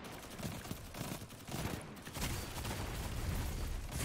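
Rapid gunfire and explosions in the shooter game Destiny 2, dense bursts of shots with heavy booming impacts, loud and continuous, with no speech over them.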